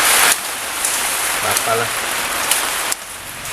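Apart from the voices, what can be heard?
rain falling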